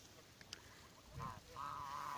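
Geese in a village field give a short honk and then a longer, drawn-out run of nasal honks, faint and somewhat distant over quiet outdoor background noise.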